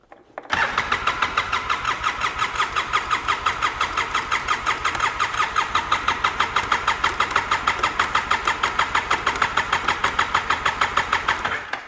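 A cold ATV engine cranks and fires in below-freezing weather, then settles into a fast, steady, chugging idle with rapid regular pulses, loud and close throughout with no voices.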